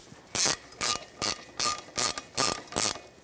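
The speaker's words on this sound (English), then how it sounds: "I'm just going to take that 12 mil and I'm just going to snug them up before I torque them to the factory specs" Ratchet with a 12 mm socket snugging the center driveshaft bolts on a 2013-2018 Toyota RAV4 2.5L L4: seven quick, close bursts of sharp pawl clicking in an even rhythm, with no talk.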